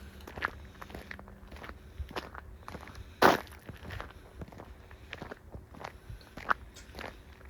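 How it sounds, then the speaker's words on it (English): Slow footsteps crunching on a gravel road at a WW1 Indian cemetery in Montreuil, each step a soft grinding scrape, with one louder crunch partway through; no one speaks. "The road is full of gravel, so you can hear me walking."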